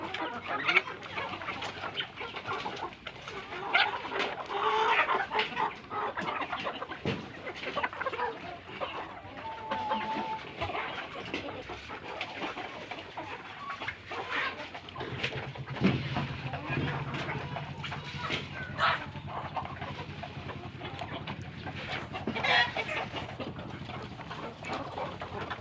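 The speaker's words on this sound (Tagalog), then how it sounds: "Ang tandang na pula dito" Free-ranging farm chickens and a red rooster cluck continuously in a backyard flock, overlapping calls near and far over steady outdoor background, while people talk throughout.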